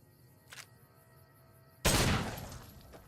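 A single loud gun blast in the video game Fallout: New Vegas, fired close after a fainter earlier click, then a long decaying tail.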